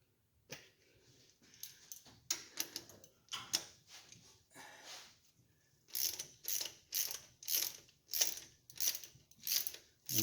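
Ratchet wrench clicking as bolts are tightened on a 1968 Ford Galaxy 500 engine, with scattered clicks at first and then a steady run of loud, close, rhythmic ratcheting strokes.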